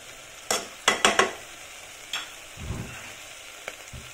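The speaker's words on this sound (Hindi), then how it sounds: "यहाँ पर डाल देंगे हम कटा हुआ अदरक हरी मिर्च और लेमन" Mutton namkeen rosh being stirred in a pan as chopped ginger, green chili and lemon go in, with a few sharp scraping strokes close by, then a soft sizzle and low rumble.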